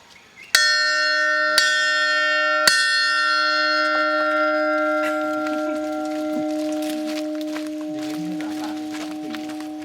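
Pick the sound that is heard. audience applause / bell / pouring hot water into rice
bell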